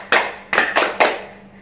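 Four crisp hand claps in a children's clap song, one, a pause, then three in quick succession, close and clear with no talk over them.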